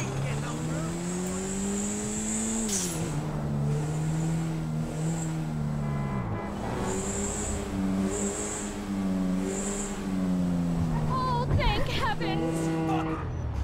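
A car in the GTA V video game driving with a steady engine drone that rises and shifts pitch, heard under continuous talking, with a brief rev near the end.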